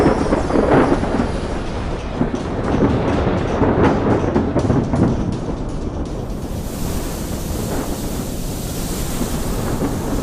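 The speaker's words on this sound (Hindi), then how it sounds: "तभी बीच समुद्र में अचानक भयानक तूफान आ जाता है।" A violent thunderstorm at sea in a 2D animated story, with heavy rain, crashing waves and a deep rumbling roar of thunder over gusting wind, loud and continuous throughout, with no voices.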